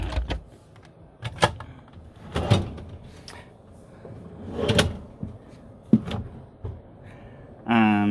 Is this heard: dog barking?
no